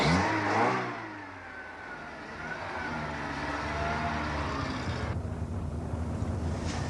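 A car engine revs and pulls away, a steady mid-pitched drone with rising pitch sweeps and wind rush, loud and continuous throughout with no speech.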